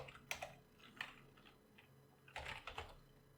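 Keys on a computer keyboard clatter softly in short irregular bursts, with a pause in the middle, quiet and close in a still room.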